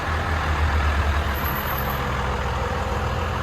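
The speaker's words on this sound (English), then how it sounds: "Dodge Cummins diesel." A 1997 Dodge Ram with a 5.9L Cummins diesel and Magnaflow exhaust idles with a deep, steady rumble, loud and close, with no one speaking.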